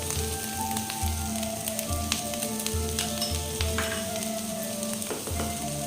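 Cabbage with yellow and red bell peppers and capsicum frying in a pan over lowered gas, giving a steady, close sizzle with soft rhythmic stirring scrapes throughout.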